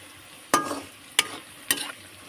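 Yogurt and crushed onion are stirred together in a pot for biryani. Three short, wet scraping strokes come close and evenly spaced, each trailing off quickly.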